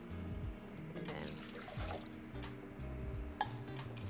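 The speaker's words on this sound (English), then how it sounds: "And then some water." Water poured into a pot of chicken broth for Zuppa Toscana soup, a soft close trickling and splashing that runs through the whole moment at low volume.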